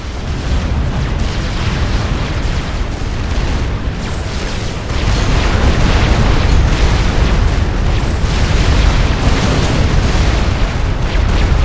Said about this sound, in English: that was mobile artillery right there